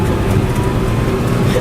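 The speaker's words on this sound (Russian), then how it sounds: "Ты видишь, двигатель аж разрывается." A VAZ car engine revs hard and strains under heavy throttle from an inexperienced driver, giving a loud, steady, close drone with no break.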